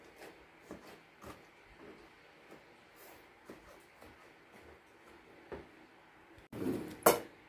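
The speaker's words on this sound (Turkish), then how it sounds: "Hemen domateslerimi doğruyorum." Quiet, steady knife taps on a cutting board as tomatoes are chopped, ending in a louder clatter of kitchenware.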